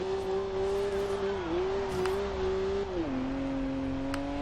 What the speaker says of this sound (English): listen to that flat out noise, that wide open throttle